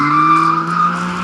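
Car tires squeal loudly and steadily as the car drifts with oversteer. The tone holds a fairly constant pitch for the whole short stretch, with no voices.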